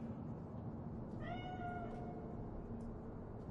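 In Cyberpunk 2077, a single drawn-out cat meow rises clearly over a steady low hum of background ambience, with no voices.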